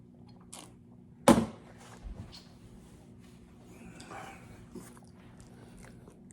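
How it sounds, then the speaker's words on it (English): Sparse light clicks of a dog's claws tapping on a hard floor, scattered across a quiet room, with one louder knock early on. "That clicking you hear is my dog walking around."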